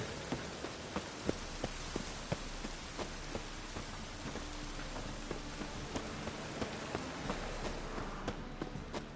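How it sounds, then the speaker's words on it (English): Steady rainfall in a city in The Witcher 3: Wild Hunt patters throughout, with scattered droplet taps and occasional sharper hits, moderately quiet with no voices. "Rain makes this city even more dreary."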